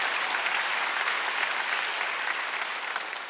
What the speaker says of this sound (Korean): 전 따라올 걸 믿는 사람만 박수 한번 올리세요